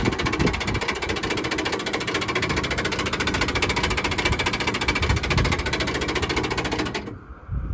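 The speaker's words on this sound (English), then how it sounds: "Whatever that was, fuel pump perhaps." A Massey Ferguson MF 32 combine's fuel pump or starting mechanism clatters in a rapid, steady mechanical ticking, loud and close, running continuously before cutting off abruptly near the end.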